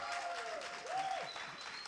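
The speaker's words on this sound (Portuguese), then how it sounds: "Mais palmas, gente!" Applause from a live audience welcoming a guest onto the stage at the opening of a voice-themed talk show, steady and sustained, with faint voices mixed in.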